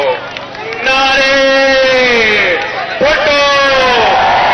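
Crowd at a PPP election rally for Bilawal Bhutto Zardari in Hyderabad chanting slogans, loud sustained voices rising and falling in two long bursts over a steady babble.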